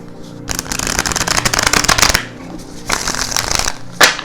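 A deck of Crystal Vision tarot cards is riffled in close, crisp bursts, two long flutters and a final quick snap, with short gaps between them.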